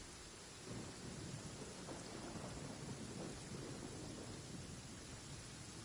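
Steady heavy rain with rolling thunder fills the streets of Liyue Harbor in Genshin Impact, a continuous dense wash of sound with no voices.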